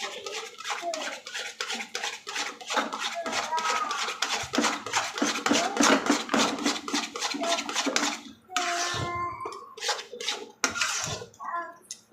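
A spoon stirs halwa around a pan in steady, fast, continuous scraping strokes that fill most of the clip, with a voice talking over the stirring and briefly alone near the end.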